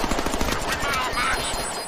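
Rapid automatic gunfire in the Deadpool video game, a dense loud burst of rattling shots with whooshing game effects, lasting under two seconds.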